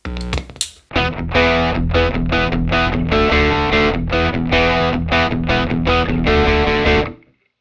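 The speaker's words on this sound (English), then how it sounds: "You can hear the distortion in the bass and it kind of clipping in different places" A bass guitar played through a distortion pedal in an electric guitar rig, loud and fuzzy, with a steady run of chugging, clipping notes in a driving rhythm that stops abruptly near the end.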